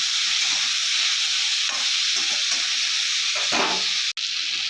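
Okra frying in a kadai of oil with salt and turmeric, a steady bright sizzle and hiss close by, with occasional stirring scrapes and a brief dropout near the end.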